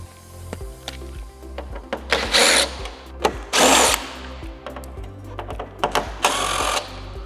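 A power driver backs out T25 windshield screws on a 2024-2026 Harley-Davidson Street Glide Ultra: three short, close whirring bursts come a second or so apart, with faint clicks of handling in between.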